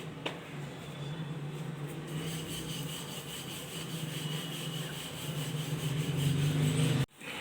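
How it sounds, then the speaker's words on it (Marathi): Rolling pin working wheat-flour garlic paratha dough flat on a board, a continuous soft rubbing and scraping with slow back-and-forth swells, close and fairly loud, ending in a sudden stop. "आता जशी आपण चपाती लाटतो ना तसंच लाटून घ्यायचं आहे"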